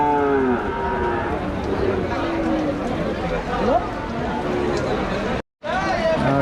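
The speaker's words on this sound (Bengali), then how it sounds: "দর্শক এখানে একটা গরু আছে" A young calf moos near the start at a cattle market in Rajshahi, over a busy background of people chattering, with more low calls from livestock nearby.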